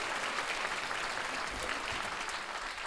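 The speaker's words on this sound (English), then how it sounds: "go ahead, round of applause." An audience at a wellness forum in Chicago giving a round of applause, a dense, steady wash of many hands clapping at moderate distance throughout.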